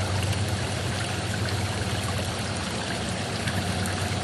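A garden water fountain at night trickles and splashes steadily, a soft, even stream of falling water heard close and alone, with no voices.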